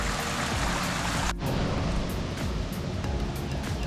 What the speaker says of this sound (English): There we are, that's the waterfall.